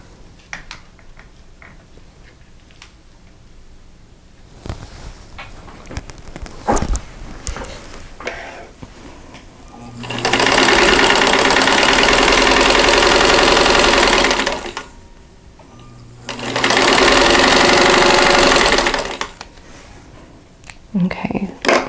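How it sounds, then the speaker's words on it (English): A sewing machine stitches the triangle edge of a straw flower quilt block in two loud runs of several seconds each, after a stretch of quiet talking and fabric handling. "So I'm going to sew down this edge here."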